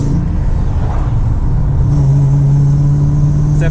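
A Lincoln Mark VIII V8 fitted with headers and a manual transmission revs loudly and close, a steady deep engine drone that rises in pitch partway through, with no talking.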